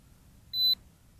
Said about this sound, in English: Hear that beep?